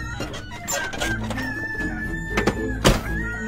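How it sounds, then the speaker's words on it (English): A chicken clucks and a rooster crows nearby, loud, close squawks and clucks in quick succession with a sustained crow in the middle, standing alone without speech. "Shut up, chicken!"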